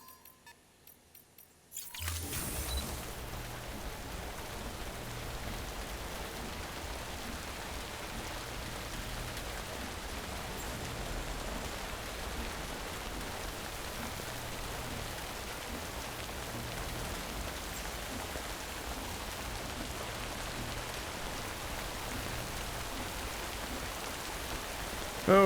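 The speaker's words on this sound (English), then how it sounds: "Oh, this is just perma-rain." Steady, dense rain pours in the video game Death Stranding, beginning after a short quiet moment and then holding as an even, unbroken hiss of falling water for the rest of the clip.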